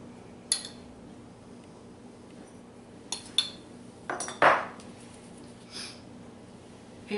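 A tablespoon of sugar clinking against a dish while making a copycat Good Seasons Italian dressing mix, with several light, scattered metallic taps and one fuller clatter near the middle, close and fairly quiet.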